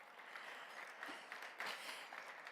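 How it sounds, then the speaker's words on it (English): An audience at a leadership luncheon applauds its panelists, a soft, even patter of many hands clapping, heard from a distance and fairly faint. "Please thank them and give them a round of applause."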